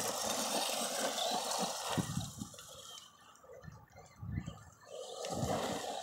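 A Redcat Dukono brushed RC car running on a 3S battery, its motor whine rising and falling as it drives past, with gritty tire noise over terrain at moderate distance and no voices.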